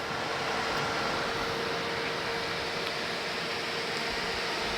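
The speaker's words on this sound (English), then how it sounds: "which you can hear the fan is on now" An electric radiator cooling fan on a 4WD runs with a steady, even broadband whir and a faint hum, constant throughout with no changes.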